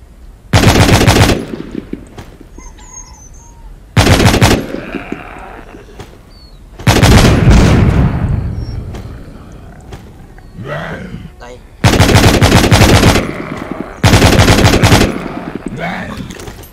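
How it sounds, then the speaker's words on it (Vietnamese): Automatic weapon fire in The Walking Zombie 2 video game rattles out in five loud, rapid bursts while shooting zombies, separated by quieter stretches filled with game sounds and someone talking. "chúng ta nhắm bắn mấy con zombie"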